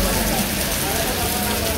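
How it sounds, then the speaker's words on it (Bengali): Heavy rain pours steadily in a village, a dense continuous hiss of drops on surfaces with no breaks, filling the whole moment at fairly close range. "বৃষ্টি আবার জুড়ে নেমে গেছে"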